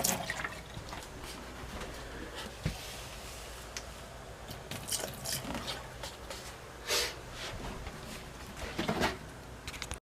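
Antifreeze is poured down the drain P-traps of a camper, a gurgling, splashing trickle of liquid with intermittent louder gushes and drips, close and fairly quiet.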